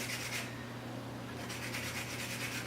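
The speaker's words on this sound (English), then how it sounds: "Got my little handy grater. We're just going to grate some." Nutmeg grated on a small handheld grater in a kitchen, quick rasping strokes close by that pause briefly midway and then resume over a steady low hum.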